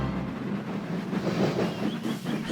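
Steam engines in the Trainz video game, three locomotives double-heading an express train up a hill, make a steady rumbling chug with rail clatter, loud and continuous throughout, with no voices over it.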